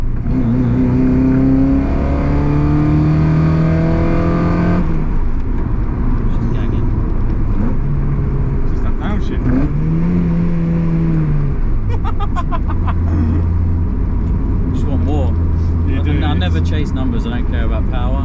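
A Mazda MX-5 mk1 Fastback's engine revs and drones loudly from inside the car, pitch rising and falling through several throttle blips and gear changes, with people talking over it.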